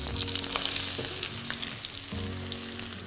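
Onions frying in open oil, giving a continuous close sizzle with faint stirring and scraping underneath, steady and fairly loud.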